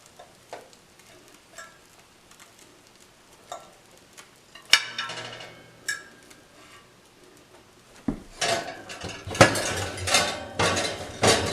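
Breaded beef steaks turned over in a metal baking pan, scattered scraping and clinking at first, then a louder burst of metal-on-metal clatter and sizzle near the end.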